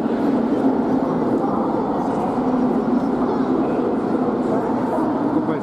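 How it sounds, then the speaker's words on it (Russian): Steady, broadband rumble of a double-decker passenger train standing at a station, continuous and fairly loud with no distinct events and no talk. "Вот мой поезд"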